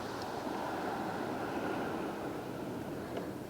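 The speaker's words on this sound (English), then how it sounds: "you can open up the windows and just hear the ocean coming in" Ocean surf and wind wash steadily below a beach mansion, a broad constant roar of waves with gusty rumble, no voices.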